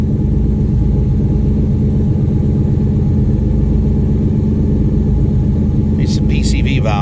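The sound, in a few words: 1970 Chevelle engine idling after TH400 transmission swap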